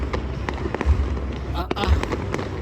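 A New Year fireworks display crackles and pops in rapid irregular bursts, with a few deeper booms mixed in, heard from moderately close amid outdoor crowd noise.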